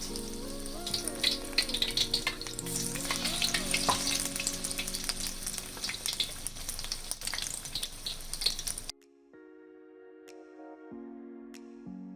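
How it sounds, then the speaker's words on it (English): Battered, marinated prawns fry in refined oil in a kadai over medium heat, giving a steady, close crackling sizzle for about nine seconds. The frying then cuts off and soft music plays. "Then we will dip the marinated prawns in the batter and fry them on medium heat."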